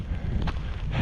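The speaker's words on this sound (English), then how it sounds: "and windy here today" Steady wind gusting across the microphone on Goatfell, Isle of Arran, Scotland, a low continuous rumble and hiss with no voices.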